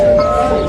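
A bell rings inside a Franciscan friary in Assisi, giving a brief, clear metallic tone that sounds over voices talking nearby.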